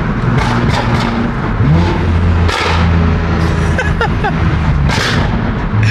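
A tuned BMW M3 CS revs and blips through a series of downshifts, with sharp pops and crackles from the exhaust between the engine surges, loud and close.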